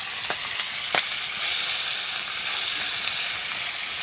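Fish frying in hot oil, a loud, continuous close sizzle and hiss with a few sharp spatters and pops early on, steady throughout without talk.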